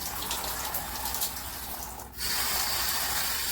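Water sprays from a chrome high-pressure handheld shower head turned on full and hitting a wall, a steady close hiss of spray with a brief dip midway before resuming loudly.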